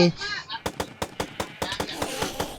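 Gunfire in the Minecraft video game, a rapid series of about a dozen sharp shots at a steady rhythm, loud and close, following a brief voice at the start.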